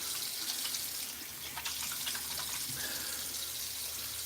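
A tap runs steadily into a sink during a wet shave while shaving cream is lathered, with soft splashing throughout and no talking.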